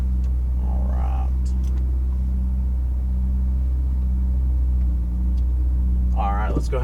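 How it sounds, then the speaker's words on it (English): Ferrari 488 GTB idling and rolling off slowly onto the Las Vegas Motor Speedway track, a loud steady low engine rumble close by that holds throughout while someone speaks briefly over it. "All right, let's go ahead and pull on out."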